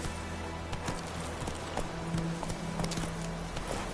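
Roach the horse gallops in The Witcher video game, a steady clip-clop of hooves running continuously at moderate loudness over low ambient game sound.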